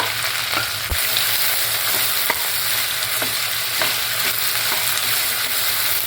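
Sliced okra and onion sizzle and crackle in a non-stick pan over medium flame, with a constant loud frying hiss broken by sharp scraping stirs and occasional clinks of the spoon.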